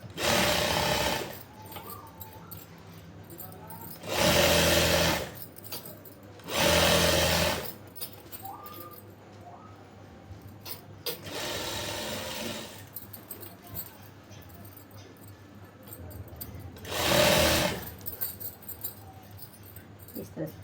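A sewing machine runs in several distinct bursts of stitching along a palazzo trouser seam, each lasting a couple of seconds with quieter pauses and faint handling noises between them.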